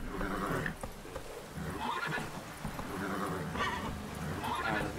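A horse in The Witcher 3 gives several loud, quavering neighs and snorts, close and repeated over a few seconds, with a low rumble of movement underneath.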